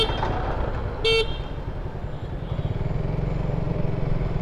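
Suzuki Gixxer Monotone motorcycle riding through traffic on a commute, a steady low engine rumble throughout with a short bright horn toot near the start, close and continuous.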